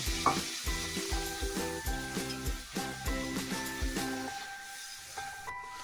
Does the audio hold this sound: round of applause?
no